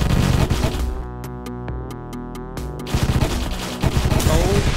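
Rapid bursts of gunfire and artillery blasts from the video game Deathstate, several sharp shots in a tight volley, loud and close over a dense background of game sound.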